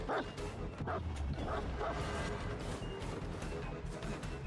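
A dog barks and yips in the Houndmaster's match in Dead by Daylight, several sharp calls over the first two seconds, sitting amid a dense, noisy game mix.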